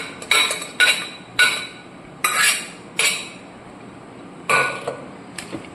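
A utensil scraping and clinking against a pot while dried tapioca and cowpeas are stirred, about seven separate metallic strokes spaced irregularly, close and fairly loud with quiet gaps between.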